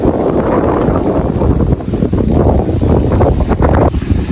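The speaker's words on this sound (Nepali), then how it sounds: "यहाँ चाहिँ यस्तो दामी हावा चलेको छ नि" Strong wind buffets the microphone in steady low rumbling gusts at Victoria Peak Garden park, loud and continuous with no other clear sounds.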